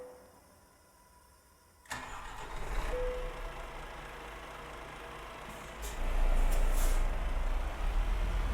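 A truck engine in Euro Truck Simulator 2 cranks and catches under a canopy, then settles into a steady idle with brief hissing and a louder rise in rumble near the end, with no talking.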